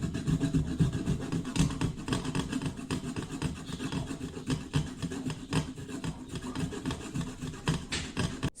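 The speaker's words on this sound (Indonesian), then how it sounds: "kita haluskan wortel menggunakan parut atau menggunakan cobek" Carrot rubbed against a grater to make carrot extract, a steady scraping rasp of repeated strokes, fairly close and moderately loud, with no voices.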